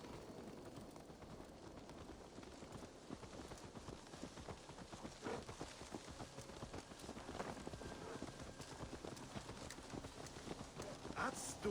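Quiet, steady clip-clop of horse hooves trotting at an even rhythm in the video game Assassin's Creed Valhalla, with soft background ambience and occasional faint bird chirps.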